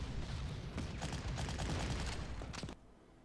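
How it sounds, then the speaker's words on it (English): Rapid artillery fire in the Panzer Corps strategy game, a dense, continuous rumble of overlapping booms and shots that cuts off abruptly near the end, leaving near silence. "there's the promised artillery duel and the attack on the light cruiser"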